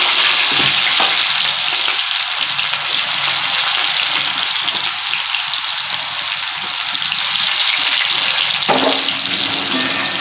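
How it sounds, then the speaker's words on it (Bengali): Onions frying in oil with caramelised sugar in a pan for marinated mutton, a loud, continuous close sizzle that flares briefly near the start and again toward the end. "আমি এবার পেঁয়াজগুলো দিয়ে দিচ্ছি।"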